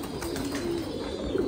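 Fantail pigeons kept as ornamental birds coo in a low, soft murmur, with one sustained tone and a brief second coo near the end, close by over steady background hiss.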